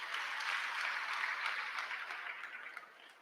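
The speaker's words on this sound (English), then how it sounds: "Can you please give them a big round of applause?" Audience applause at a labour activation programme event in Gauteng, a steady wash of clapping from a crowd that holds for about three seconds and then thins slightly toward the end.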